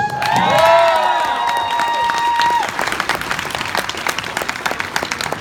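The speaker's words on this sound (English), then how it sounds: "Big round of applause for the kids" Applause and cheering from a fan convention panel crowd for the children, loud and sustained, with a tonal horn-like or feedback sound over the first half before the clapping carries on alone.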